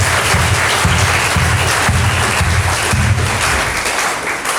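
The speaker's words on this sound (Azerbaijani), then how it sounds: "zəhmətkeş insanları bir gürültülü alqışlayan" A theatre audience at a comedy stage show applauds, a dense, sustained burst of many hands clapping at full volume for several seconds before easing slightly at the end.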